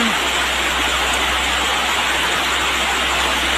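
Rain, a dense, steady hiss of falling water that stays loud and even throughout with no gaps, much like a stream or a waterfall.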